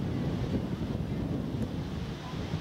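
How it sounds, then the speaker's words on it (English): Strong wind at Niagara Falls buffets the microphone in a steady, loud, broadband rumble that roars continuously with no distinct events. "oh, it's terribly windy up here"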